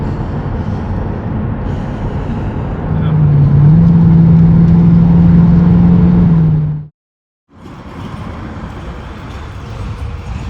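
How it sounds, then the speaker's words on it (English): Inside a Ford AU XR8, the engine is revved and a belt squeals as a loud, steady whine over the engine roar for a few seconds. The sound then cuts out briefly before the engine noise resumes. "I really have to boot the car to make it squeal"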